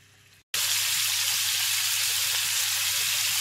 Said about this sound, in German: würde ich sagen, 5 Minuten bis 7 Minuten schön anbraten, damit der Bacon auch ein bisschen kross wird.